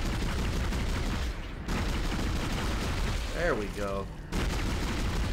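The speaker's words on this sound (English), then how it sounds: "I gotta shoot him in the tentacles" Rapid gunfire tears through a dense, noisy Dead Space fight as a player shoots a monster's tentacles, continuous and loud, with a short break. Someone speaks briefly over it.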